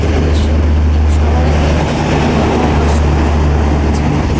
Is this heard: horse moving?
no